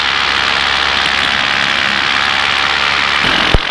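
Paramotor engine in flight, a loud continuous propeller-driven drone with strong high-pitched roar and steady level, ending with a brief thump.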